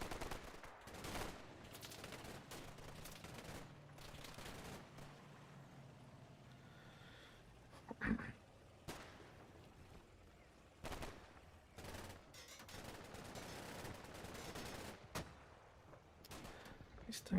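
Artillery and gunfire in the Red Thunder tank game: scattered sharp shots and heavier booms burst irregularly over a low rumbling battle bed, some loud and close, others distant, with a voice talking at times.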